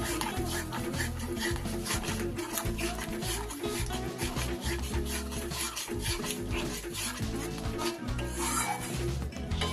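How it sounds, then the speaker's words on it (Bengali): A spoon scrapes and stirs yogurt through Bengali-style doi katla, a rohu fish curry in yogurt, in a pan over low gas, giving a steady rubbing, rasping texture with dense clatter that continues throughout. "আর সাথে সাথে দইটা দেওয়ার সাথে সাথে এইভাবে নাড়তে হবে।"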